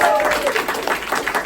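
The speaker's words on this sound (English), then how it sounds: "let's give Cece a big round of applause." A crowd claps in a short burst of applause, steady and moderately loud, with voices talking over it.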